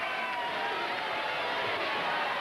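Wrestling crowd reacts noisily after a fall in a bout between Jim Breaks and Young David, a loud, sustained hubbub of voices and jeers across the whole moment.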